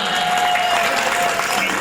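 Steady audience applause fills a Punjabi and Saraiki folk music program, a dense, loud clatter of clapping from a crowd that holds evenly throughout the short burst.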